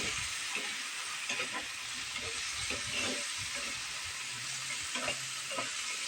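Potatoes frying in a pan with pork liver cooking, a steady loud sizzle with intermittent scraping and clinking strokes of stirring, close up and without talk.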